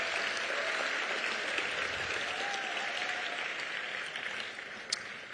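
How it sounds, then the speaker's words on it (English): Audience applause fills a school district spring concert hall, steady and dense clapping throughout, thinning slightly near the end with a brief sharp clap peak. "Let's go ahead and give them a round of applause for their excellent rating."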